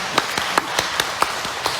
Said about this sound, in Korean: 박수는 치드려야 되겠죠?